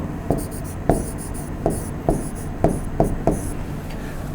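Chalk or marker strikes and scratches on a teaching board as a graph is drawn, a series of sharp taps and short strokes at irregular intervals, close and fairly loud.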